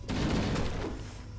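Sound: gunfire shooting a box in video game Halo CE

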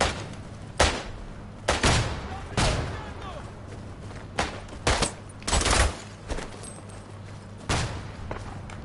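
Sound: grenade explosion in the video game Isonzo

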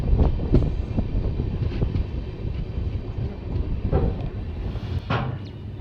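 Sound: train entering Eklakhi junction

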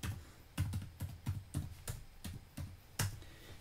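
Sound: typing values on a computer keyboard

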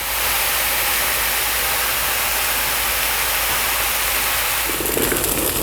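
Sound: eggplant cubes frying in oil in Tefal pan

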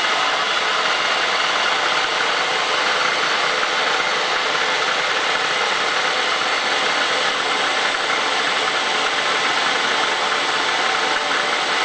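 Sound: Bridgeport milling machine trimming valve length

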